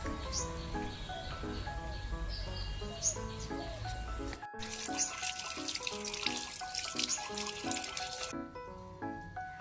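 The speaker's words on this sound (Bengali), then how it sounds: "এবার একটু মাটি লেগে আছে, এটাকে ভালো করে বস করে নিই। জল দিয়ে বস করে নিলাম।" Water runs and splashes over freshly picked coriander leaves being rinsed of soil, a continuous trickling wash beneath loud background music.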